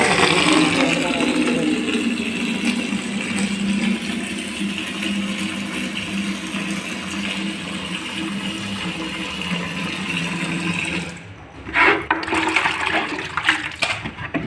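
Tap water rushes steadily and close while small socks are washed by hand, then the flow breaks off near the end and gives way to a few brief splashes and sloshes.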